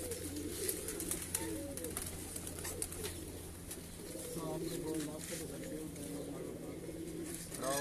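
Breeder pigeons cooing on a rooftop in Sheikhupura, a steady murmur of soft throaty coos from several birds close by, with a constant low hum and some background voices.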